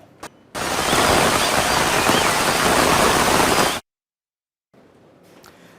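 Heavy, continuous rain in Gujarat: a dense, loud roar of downpour for about three seconds that cuts off abruptly, followed by a moment of silence and then faint background noise.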